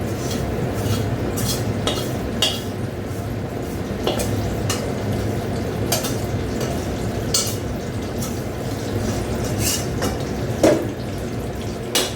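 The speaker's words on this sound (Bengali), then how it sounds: "দেখো এখানে কড়া বসিয়ে দিলাম আর এই পোস্তটা ঢেলে দিচ্ছি" Poppy seed paste in a kadai being stirred, a dense continuous sizzle and rumble with intermittent metal scrapes and taps of the spoon, steady and close, no voices heard.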